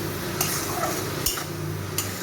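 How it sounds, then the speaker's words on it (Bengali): Shrimp frying in a pan with salt and turmeric, a low steady sizzle punctuated by three sharp stirring clacks of a utensil against the pan, close and without talk. "চিংড়ি মাছটা আর একটু ভেজে নেব।"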